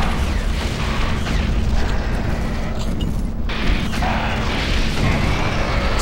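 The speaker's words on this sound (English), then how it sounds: "So keep throwing grenades, or rockets, whatever you want." Grenade and rocket blasts in Doom 3 BFG Edition's Lost Mission, dense rumbling booms layered over a constant low roar of combat, loud and close with no voices.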